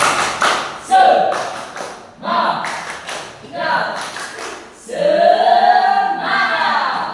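Classroom clapping chant led by a teacher, with children's voices shouting in rhythm between bursts of patterned claps and taps, loud and close.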